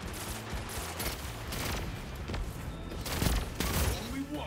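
Rapid bursts of gunfire in the Destiny Trials video game, with repeated sharp shots overlapping in a dense volley, loud and continuous across the clip.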